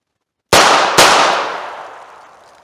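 Two revolver shots fired at targets outdoors, loud and close, the second following about half a second after the first, each a sharp crack with a long fading ring afterward.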